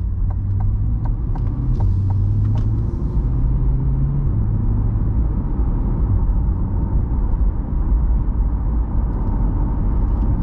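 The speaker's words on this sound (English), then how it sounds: "let's just focus on cabin noise for a moment" Steady low road and engine rumble fills the cabin of a 2020 Corvette C8 on the move, a constant drone with faint wind hiss above and a few light ticks early on, no one talking.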